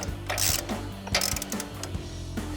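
A ratchet with a 1-1/8 inch socket tightens a castle nut during a front coil spring leveling kit install on a Ford F-250, giving a few bursts of rapid clicking close up with short pauses between strokes.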